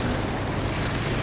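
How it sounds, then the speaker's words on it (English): Continuous battlefield gunfire in the World War II strategy game Company of Heroes 2, a dense, steady clatter of rifle and machine-gun shots throughout, loud and close with no talk. "This guy is taking shots at him."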